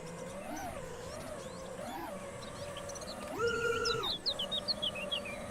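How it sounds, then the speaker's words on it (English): A loud bird call in the AI Drone Simu video game, a wavering tonal cry that swoops up and down, then a sustained held note and a burst of sharp high chirps over a constant background hum. "That bird is loud."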